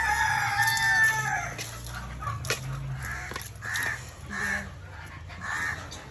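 Chickens cluck on a home poultry farm, near and fairly loud, with a rooster crowing in short repeated calls and steady background clucking from the flock.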